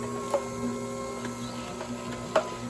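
An Orfeld 1505 celery juicer motor runs in reverse with a low, even electric hum and faint whine, punctuated by a few soft clicks and knocks from celery inside, quiet and close.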